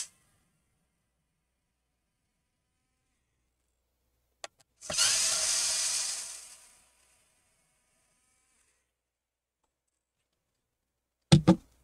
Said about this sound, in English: So remove all the 8 screws.